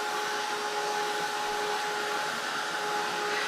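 A hair dryer blows on wet paint on a chickadee artwork, giving a steady, continuous whirring rush at close range with no talking.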